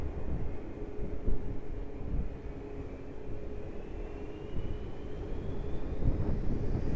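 An airliner takes off from runway 20 at Lisbon Airport, a steady broad jet roar rumbling at a distance for the whole stretch with a faint rising engine whine.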